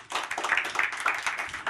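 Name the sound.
audience applause for Yvonne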